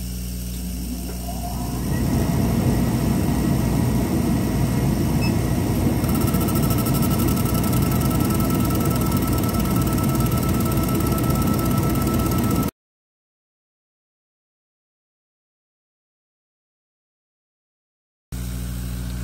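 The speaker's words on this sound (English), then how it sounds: "Don't forget to turn on your blower." A laser cutter's exhaust blower starts up and runs as a loud, steady whooshing drone with mechanical whine, then cuts to silence before a short return.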